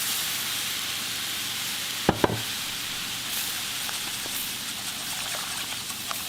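A whisk stirs gravy made with giblet broth and a cup of milk, producing a steady sizzling, sloshing wash with a couple of sharp clinks against the pan; no one speaks.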